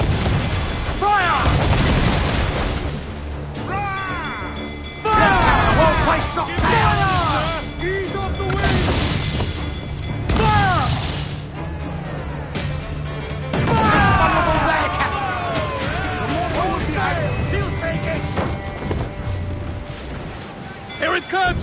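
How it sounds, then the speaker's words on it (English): Ship cannons fire in the Assassin's Creed Black Flag naval battle, with repeated heavy booms and crashing impacts across a sustained loud barrage, mixed with game music and shouted crew orders. "Fire! Brace!"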